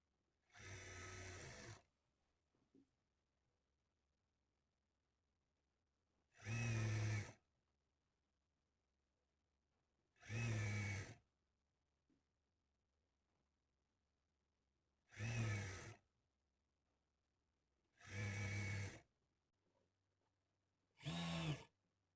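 Sewing machine stitching thread piping, running in six short bursts of about two seconds each, separated by quiet pauses; close and clear with no talking.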